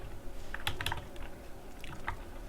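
Computer keyboard keys pressed for a Ctrl X cut shortcut, a short cluster of close, crisp clicks followed by one more tap.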